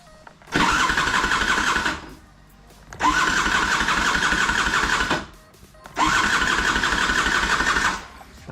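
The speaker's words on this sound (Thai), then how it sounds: "เดี๋ยวให้ฟังเสียงเครื่องก่อนครับ เครื่องดังมาก" A loud Skipper 150cc scooter engine with a stuck piston tries to start three times, each a harsh cranking roar of about two seconds separated by short quiet gaps, with no talking.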